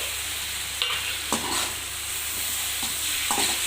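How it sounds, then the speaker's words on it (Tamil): Tomatoes sautéing in a pan give a continuous close sizzle, broken by a few sharp scrapes of a spoon stirring against the metal; no talk. "இதை கொஞ்சம் நல்லா வதங்கட்டும் அப்படியே"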